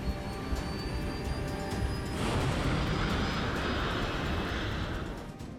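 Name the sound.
airplane taking off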